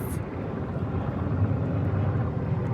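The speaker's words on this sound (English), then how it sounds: "there's a helicopter going over at the moment" An army-type helicopter passes overhead outdoors, a steady low rumbling drone that holds fairly loud and even throughout with no voices.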